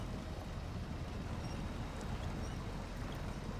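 A truck engine idles in the snowy off-road driving game SnowRunner, giving a faint, steady low rumble with no one talking.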